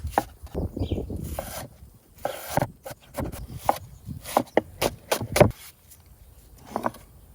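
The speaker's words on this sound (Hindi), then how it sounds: "और एक प्याज चाहिए, इसको हम लोग इस तरह से चॉप कर लेंगे।" A knife chops an onion on a cutting board for a clam and mango curry, giving irregular close, crisp taps in short bursts with brief pauses between them and no voices.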